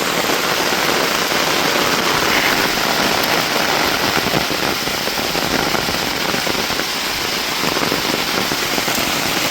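Heavy summer rain pouring down steadily, a dense, loud, continuous hiss of drops drumming on surfaces close by with no pauses.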